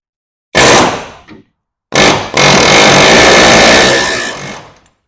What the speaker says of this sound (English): Take this air hammer.